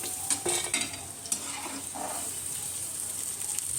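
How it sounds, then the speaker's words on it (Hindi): Pieces of suran, elephant foot yam, frying in oil in a pan, with a steady close sizzle and a few stirring scrapes early on, no talk. "इसी तरह सारा सूरन मैं फ्राई कर लूँगी।"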